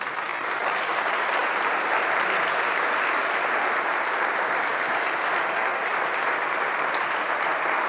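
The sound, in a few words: congregation applauding in church service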